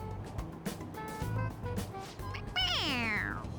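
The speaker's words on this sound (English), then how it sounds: "It's very good at meowing. Yeah, it's just a toy. It meows when you press on its head." A stuffed toy cat in the Persona 5 Royal video game lets out a couple of short meows and then a longer, falling electronic meow, up close over game background music.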